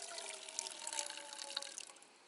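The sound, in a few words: pouring boiled water for cooking couscous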